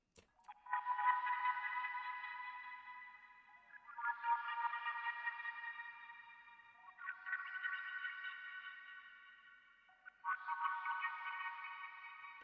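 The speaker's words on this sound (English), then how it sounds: "this sound is from Midi Flux Saxophone" Saxophone-like synth preset from Midi Flux Saxophone, processed with Valhalla delay, reverb, Echo Boy echo and EQ, playing four long sustained swelling notes with wavering, washy tails, heard alone and moderately quiet.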